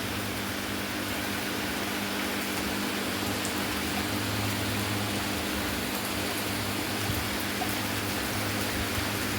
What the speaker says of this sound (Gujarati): એકદમ ફૂલ વરસાદ આવે છે